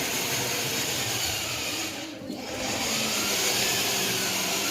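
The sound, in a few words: vehicle engine running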